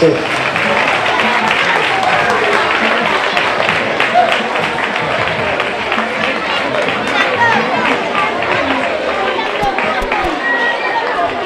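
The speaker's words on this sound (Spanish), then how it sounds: "Un aplauso muy fuerte, por favor." Crowd applause and cheering at an Antroido carnival costume prize, steady and loud throughout with busy crowd chatter mixed in.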